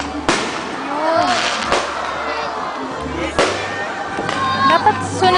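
Fireworks burst outdoors at an amusement park, several loud booms in an irregular sequence with crackling between them, while nearby people talk over the display.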